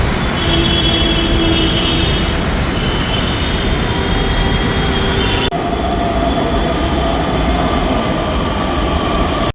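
A metro train rumbles loudly and steadily from inside a carriage on the line to Ramwadi, with a faint whine of motors and a sudden shift in tone partway through.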